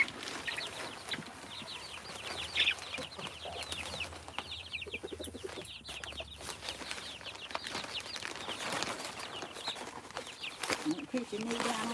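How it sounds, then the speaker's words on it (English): A rooster in a pen gives a run of short, repeated clucks and calls, close by, amid rustling and handling noises, with a brief voice speaking partway through. "Now you be a sweet rooster."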